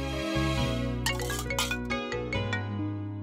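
A mobile phone ringtone plays loudly and alone, a steady electronic melody with repeating tonal notes and brief bright accents.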